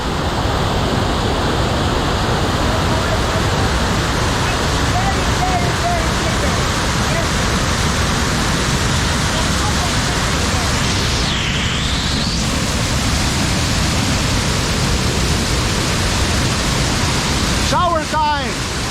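Tinuy-an Falls in Mindanao, Philippines roars with a steady, loud wash of falling water that fills the whole scene without pause, with a couple of faint bird chirps near the end.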